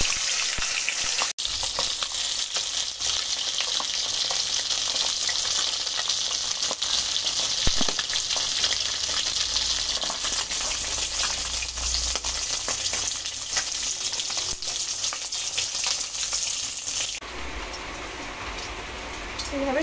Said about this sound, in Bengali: এইভাবে সবকটা মাছ ভেজে নেবেন।